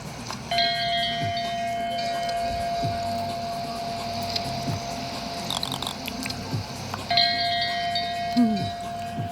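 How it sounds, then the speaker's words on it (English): A bell rung in a video game beside a working in-game clock, heard as a sustained tonal chime with steady overtones that holds for several seconds, fades, then rings again near the end over a busy low background. "You can ring the bell."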